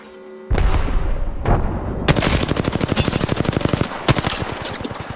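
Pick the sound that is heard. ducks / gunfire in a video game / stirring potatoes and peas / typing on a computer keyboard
gunfire in a video game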